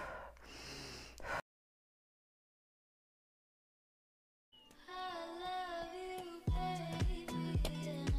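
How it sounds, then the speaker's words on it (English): One deep, forceful breath during running, loud and close, like a hard inhale pushed out in a strong exhale. A pause of silence follows, then music comes in. "Completely inflate your stomach, exhale hard."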